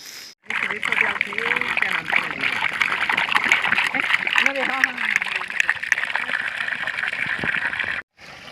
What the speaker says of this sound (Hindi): तो पानी तो आ गया है।